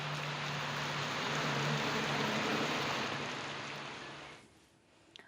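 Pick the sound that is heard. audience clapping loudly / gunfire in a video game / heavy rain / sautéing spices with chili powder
heavy rain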